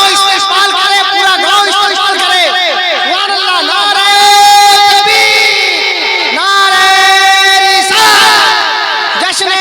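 A large crowd at an Islamic religious gathering roars back in unison to the Nara-e-Takbir call, loud, sustained shouting that swells and repeats in waves of massed voices.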